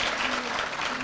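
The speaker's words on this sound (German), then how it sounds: "Also Applaus für Wolfgang Schwarz." A crowd applauds figure skater Wolfgang Schwarz with steady, dense clapping that stays level through a brief burst.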